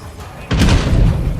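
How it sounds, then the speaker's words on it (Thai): A grenade in State of Decay 2 goes off as a single sudden, loud, heavy blast, followed by a dense rumbling roar that holds through the rest of the moment. "ปาระเบิดเลย"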